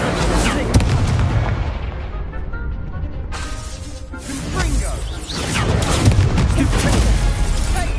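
The Incendio fire spell in Hogwarts Legacy erupts in loud, crackling, explosive bursts with a whooshing flare over a rumbling battle bed, close and continuous, with a brief dip in the middle.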